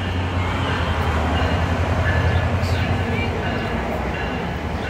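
A multi-level train passing near a building in Ridgewood, New Jersey, a loud, steady low rumble and rattle heard fairly close, with a voice speaking over it.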